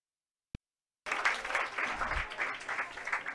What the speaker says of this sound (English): And Austin King leaving to a round of applause, rightly so, as he exits